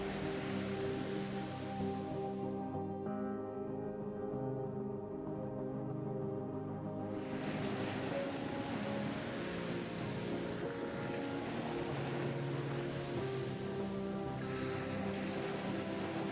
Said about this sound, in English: white waves crash gently along the shore